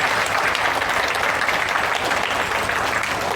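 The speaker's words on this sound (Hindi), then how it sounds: "अच्छी ताली आपने लिए बजा लीजिए" An audience at a gurukul gathering in Sultanpur claps steadily, a dense, loud burst of applause that fills the space evenly without a break.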